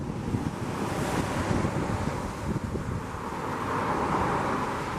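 Scott Falls, a waterfall in Alger County, gives a steady broadband rush of falling water mixed with wind buffeting the microphone outdoors, constant and fairly loud throughout with no voices.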